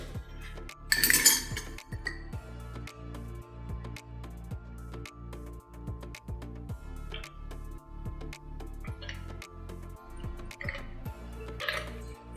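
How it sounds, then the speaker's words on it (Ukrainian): A dry martini is strained from a mixing glass of ice and poured, with a sharp clink at the start, then soft glassy chinks and light dripping and trickling close by, with no talk. "Забираємо лід з нашого гелику і переливаємо."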